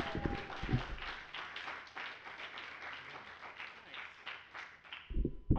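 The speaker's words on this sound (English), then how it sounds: "That means you clap right now while he's coming on stage." A live stand-up comedy audience claps steadily to welcome a comedian onto the stage in Grand Rapids, a dense, even patter of many hands that carries on for several seconds before a few louder thumps close it out.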